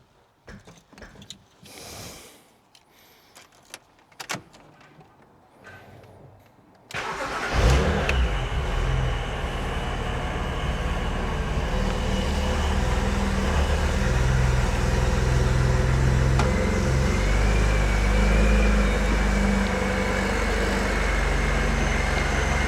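A supercharged BMW E86 Z4 coupe with a charge-cooled intake fires up after a few quiet clicks and settles into a loud, steady running drone that continues to the end, with no talking.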